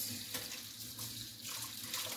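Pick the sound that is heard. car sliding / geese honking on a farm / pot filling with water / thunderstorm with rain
pot filling with water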